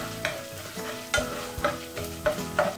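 Chana dal and urad dal are sautéed in oil in a pan, with a steady close sizzle broken by about five sharp scraping stirs of a spoon at a regular pace, and no talking.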